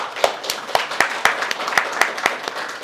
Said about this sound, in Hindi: ताली बजा दीजिए जोरदार